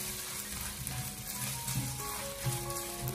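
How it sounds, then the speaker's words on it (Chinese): Minced meat is stir-fried with oyster sauce and a little dark soy, making a steady, dense sizzle close by with faint scraping of the spatula, and no voices. "然后再继续的给它翻炒一小会，把它翻炒均匀，给它炒出酱料的香味"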